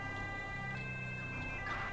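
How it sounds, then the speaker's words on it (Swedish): A wailing police car siren in the video game GTA 5 rises and falls steadily in the background, moderately faint and continuous, under a low engine drone from the police Mustang. "Jag får lite panik på sirenerna, de är rätt höga nu med."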